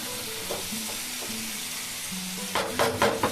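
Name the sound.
chicken being stir-fried with salt and turmeric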